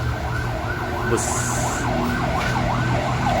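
A fire engine siren wails in a repeating rising and falling sweep, loud and continuous over low traffic rumble, with a brief spoken word in the mix.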